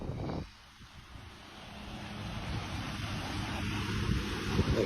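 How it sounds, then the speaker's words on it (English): Ocean waves washing ashore in a steady broadband rush with wind buffeting the microphone, a sharp gust at the start, then a continuous swell of surf that builds slightly toward the end. "Look at it, mate. It's the ocean."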